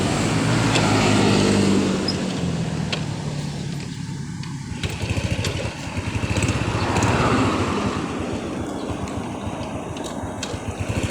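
Road traffic passes close by: cars and motorcycles rumble past one after another, engines swelling and fading in a continuous roadside drone.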